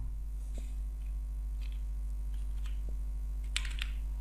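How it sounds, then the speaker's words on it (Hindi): Light keyboard typing on a computer while writing text in MS Word, a few sparse soft clicks over a steady low hum, with a brief denser burst of keystrokes near the end. "यहाँ पे मैं लिखता हूँ"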